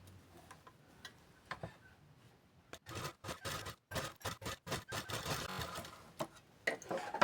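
A sewing machine stitches a blouse being made from an old one into a simple katori style. After a quiet, lightly ticking start, it runs up close in rapid rhythmic bursts of clicking and whirring, stopping and starting in short runs.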